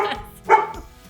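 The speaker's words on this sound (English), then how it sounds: "the dogs are play fighting back behind us" Dogs play fighting somewhere behind the room let out a few short, moderately loud barks and yips, one stronger bark standing out among softer growly noises.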